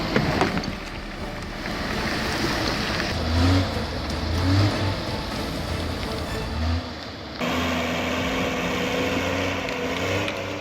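An older Tree Farmer C5 logging machine hauling several heavy logs on a forest road, its engine a steady loud drone with shifting revs and a brief drop near the end before rising again.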